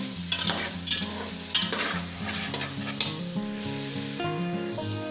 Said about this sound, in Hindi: ये आलू मैंने बड़े साइज में काट के रखे थे, ये ऐड कर दूंगा और इनको हमने मिक्स करना है और फ्राई करना है अच्छे तरीके से